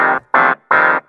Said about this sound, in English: this is a really neat clavinet sound. I've put it through an auto wah,